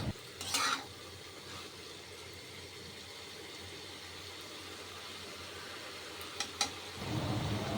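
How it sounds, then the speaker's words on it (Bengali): Bitter gourd and potato are stirred continuously in a pan over a high flame, giving a low, steady sizzle with occasional scraping clinks of the spatula. "এবার আমি হাই ফ্লেমে অনবরত নাড়াচাড়া করে বেশ শুকনো শুকনো করে বানিয়ে নেব।"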